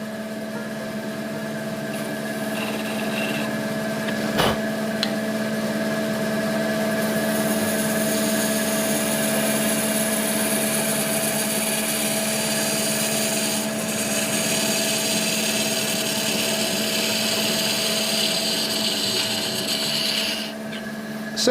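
A wood lathe turning an epoxy resin shaving brush handle, a steady motor hum with a constant tonal whine, and a tool rubbing and cutting against the spinning resin in long bursts, close and continuous, with no talking.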